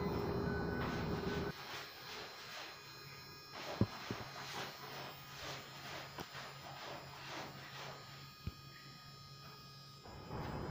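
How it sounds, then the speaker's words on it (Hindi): A small 12-volt motor runs on power from a 10-watt Loom Solar panel. A rough burst opens, then it settles into a steady close hum with a few faint clicks and no voices. "आप इसकी आवाज़ सुन सकते हैं कितनी तेज़ चल रही है ये हमारी मोटर"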